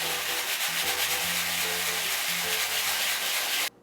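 A steady, coarse crunching and grinding of dry Dutch beschuit rusks being crushed into breadcrumbs runs continuously for a few seconds before stopping abruptly.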